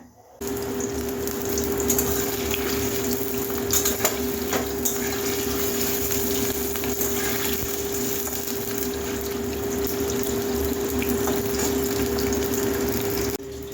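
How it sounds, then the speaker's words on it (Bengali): Paneer frying in oil in a wok gives a steady, loud bubbling sizzle that runs unbroken from start to finish, with a faint constant hum beneath it and no one speaking. "আগে পনিরটা ভেজে নিই"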